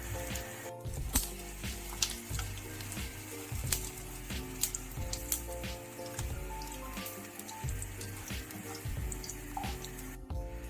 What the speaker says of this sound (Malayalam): ഈ തേങ്ങ നമ്മൾ ഓയിലിലേക്ക് ഇട്ടിട്ടുണ്ട്. നല്ല ഗോൾഡൻ കളർ ആകുന്നത് വരെ ഇതൊന്ന് വറുത്തെടുക്കാം.